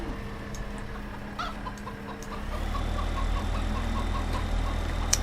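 Chickens cluck repeatedly in Farming Simulator 15, on the OldStreams farm map, with a steady vehicle engine rumble rising underneath partway through and continuing to the end.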